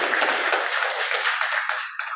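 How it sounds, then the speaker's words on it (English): Audience applause after a presentation at a national conference meeting, a dense spread of clapping from a room of people, steady and fairly loud throughout the short stretch. "please give a round of applause again to Mr. Kon and Dr. Maria for their presentation"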